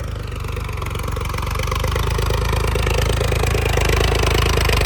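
A tractor's diesel engine chugs loudly and steadily close by as it climbs a bridge, its rhythmic knocking growing slightly stronger as it labors under load.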